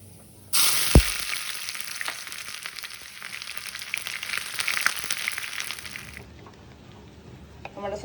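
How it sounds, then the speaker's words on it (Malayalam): Kerala sambar simmering in a clay pot gives a steady bubbling sizzle that begins abruptly after a brief thump and runs fairly loud and close for several seconds before easing off, with no voices. "നമ്മുടെ സാമ്പാർ നന്നായിട്ട് തിളച്ചിട്ടുണ്ട്"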